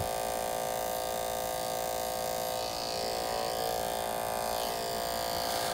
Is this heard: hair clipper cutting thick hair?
yes